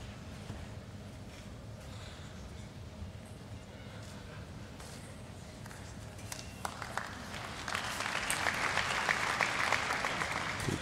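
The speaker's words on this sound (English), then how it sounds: "People applauding the ball girl on that." Spectators applaud at a table tennis men's singles semifinal between Ma Long and Wong Chun Ting at the 2018 German Open, a steady hall-wide patter of clapping that swells louder toward the end, with commentary talk running underneath.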